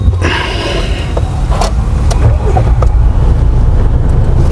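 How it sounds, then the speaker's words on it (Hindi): Mahindra Thar Roxx SUV engine starting up and settling into a loud, close, low rumbling idle, with a few faint clicks and knocks in between. "स्टार्ट हो गया, गाड़ी स्टार्ट है।"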